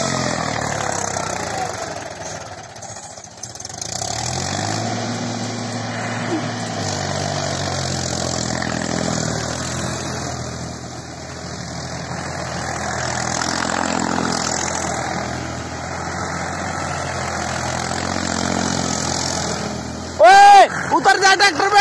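A Mahindra 265 DI tractor engine runs steadily throughout, its pitch rising and falling as it is revved, with a brief louder burst near the end; voices talk over the engine at times.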